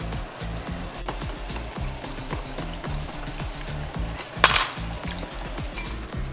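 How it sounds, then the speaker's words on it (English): A whisk beats a pea dal mixture with water in a bowl, a fast steady clatter and tapping against the sides that keeps a quick rhythm, close by and with no talk. "and whisk it."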